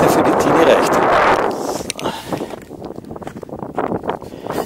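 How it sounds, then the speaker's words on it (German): Wind gusting over a frozen lake while snowkiting on ice, buffeting the microphone in loud rushing bursts that ease off midway into rougher, choppier gusts, with voices nearby. "Das ist ein schöner Wind."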